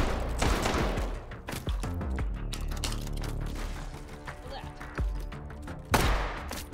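A short semi-automatic shotgun in the VR game H3VR fires a handful of sharp, loud blasts at uneven gaps, with mechanical clacks and game sounds between the shots.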